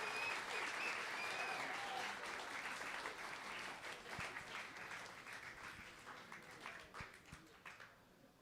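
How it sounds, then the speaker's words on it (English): Audience applause at the Bourbon Room after a jazz show, a full crowd clapping strongly at first, then thinning out into scattered claps near the end. "So give yourselves a round of applause for being a part of tonight's show."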